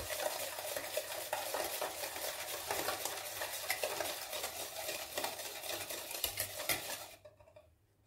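Batter for anise rosquillas, with oil added, is beaten in a bowl, giving a brisk, continuous rhythmic whisking and scraping that stops abruptly near the end.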